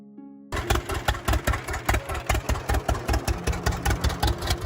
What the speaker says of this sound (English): the steady boom sound of the twin-cylinder engine